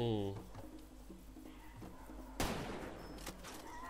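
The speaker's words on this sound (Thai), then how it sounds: "สงสัยมี คนยิงทางไกลเราแน่เลย" Distant gunfire in the video game Far Cry 2: one sharp crack midway, then a fainter second report, quiet over a low steady background.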